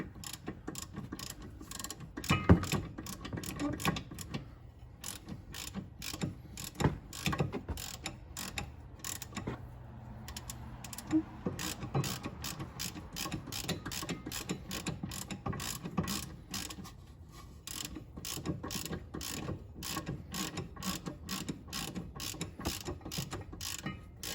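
A hand ratchet tightens a 14 mm caliper bolt during a rear brake pad and rotor service on a 1999 Acura CL 2.3, clicking in long, fast, steady runs with a few brief pauses, close and clear.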